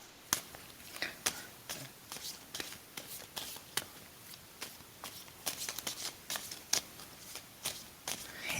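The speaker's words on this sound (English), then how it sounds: "And tell me when I should stop shuffling." Tarot cards are shuffled by hand close by in a steady run of crisp riffling snaps and soft flutters repeating about every half second, fairly quiet and heard alone.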